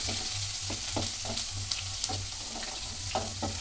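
Garlic sizzles gently in a pan over low heat with a continuous soft hiss, broken by light scraping stirs and small pops at regular intervals, close and with no voices.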